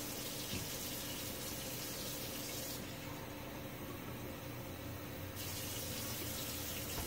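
Tap water pours steadily into a measuring cup at a kitchen sink, a continuous close hiss of running water with no talk.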